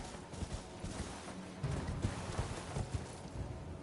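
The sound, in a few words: horse hooves galloping in video game Elden Ring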